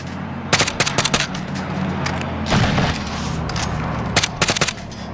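Rapid bursts of machine-gun fire from a player shooting down a helicopter in the video game Call of Duty: Modern Warfare. Several short volleys come close and loud over a steady rumble of engine and rotor noise, with a deeper thump in the middle.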